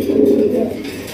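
Raj Golla pigeons coo at a farm, a short throaty low coo sounding close and clear.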